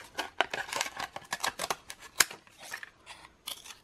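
Scissors snip repeatedly through craft foam sheet while cutting out foam stamps, a quick irregular run of close, crisp cuts with short pauses, no talking.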